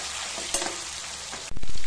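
Whole small onions hit a hot pan for a fenugreek kulambu, a soft hiss giving way to a sudden loud burst of sizzling close by for the final moments.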